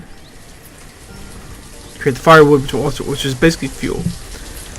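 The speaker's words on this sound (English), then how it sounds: "Pardon the rain, that's rather annoying." Rain falls in the city-building video game Banished as a soft, steady hiss in the background, while someone talks over it for most of the stretch.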